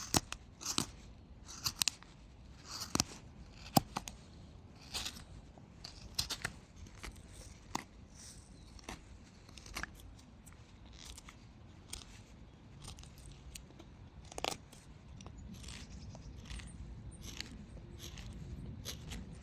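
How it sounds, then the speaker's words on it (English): A knife whittles a wooden sheep figure, slimming the sides between the legs: a run of crisp, close scraping and snapping cuts in irregular rhythm, some sharper than others, with softer shaving sounds toward the end. "we can make carving the rest of the gap between the legs easier by slimming down the sides like this"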